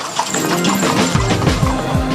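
Horses clip-clop along a street in Jordan, hooves striking in a steady, fairly close rhythm with a few faint whinny-like sounds mixed into the busy ambient noise.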